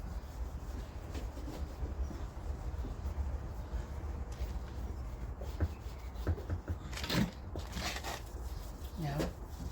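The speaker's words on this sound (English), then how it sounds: "Yeah, really good wiping over." A cloth rubs firmly back and forth across the metal body of a Citroen Relay van, cleaning the surface before window adhesive goes on, a steady close scrubbing under a low background hum.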